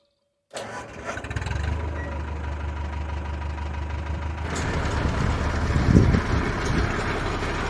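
A tractor engine starts up with a short crank and settles into a steady running rumble to drive a PTO-driven 3-point auger, loud and close, with a rising mechanical whir partway through.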